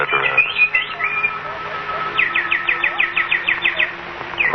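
Bird song sound effect in a radio drama, a bright run of repeated chirps and trills rising clearly over a soft background, with a quick series of rapid tweets near the end.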